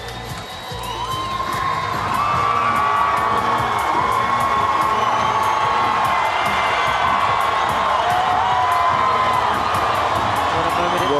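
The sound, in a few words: stadium crowd cheering at Pacific Games opening ceremony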